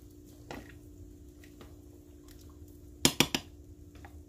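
Gluten-free pasta being stirred in a pot of boiling water, mostly quiet, then a quick cluster of three or four sharp metallic clinks of utensil against the pot near the end.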